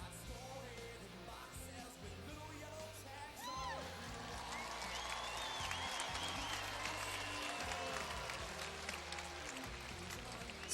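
Arena crowd at a 2007 NCAA women's gymnastics meet, UCLA at Utah, applauds steadily throughout, a broad sustained wash of clapping and cheering that swells slightly midway, with faint whistles and an indistinct voice beneath.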